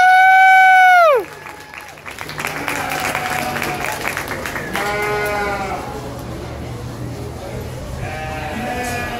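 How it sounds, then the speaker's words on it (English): At a 2016 Chino Fair lamb show, a loud, close sheep bleat opens the clip. A crowd's clapping then swells and carries on, with more bleats from the livestock breaking through the applause. "Let's go ahead and give these kids a round of applause."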